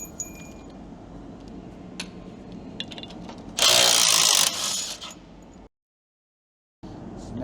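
A hand ratchet clicks while removing recovery-point side bolts on a Ford Ranger Super Duty, light metallic ticks and clinks up close, followed by a loud burst of harsher mechanical rattling before a sudden silence.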